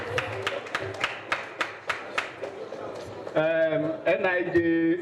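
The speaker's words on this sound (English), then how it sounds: "A round of applause" At a book presentation, an audience gives a round of applause: a run of distinct, fairly close hand claps in a loose rhythm for about three seconds, after which a voice takes over amid a few remaining claps.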